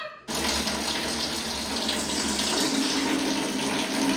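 Water gushes steadily from a tap after a brief moment of quiet, a constant splashing rush close by.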